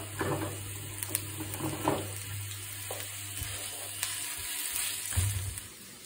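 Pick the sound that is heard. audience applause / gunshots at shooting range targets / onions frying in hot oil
onions frying in hot oil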